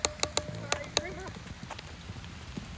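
Hooves of a horse in light flatwork training at a riding arena strike in a steady, rhythmic clip-clop, several crisp beats close by, fading somewhat toward the end, with a rider's voice and faint coaching speech around them.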